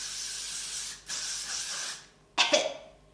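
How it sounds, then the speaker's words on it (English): Got to Be Free hairspray hisses onto hair in three bursts, two longer sprays followed by a shorter, sharper one, each close and clear with brief quiet gaps between. "I hairspray my hair before I brush it out, and I use the Got to Be Free hairspray"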